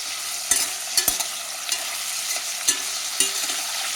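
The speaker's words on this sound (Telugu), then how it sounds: "ఈలోగా ఈ క్యాప్సికమ్ వేగాలి." Capsicum (bell pepper) pieces frying in a pan for a mutton curry, giving a steady broad sizzle. Several sharp stirring clicks and scrapes land across the clip, and no one speaks.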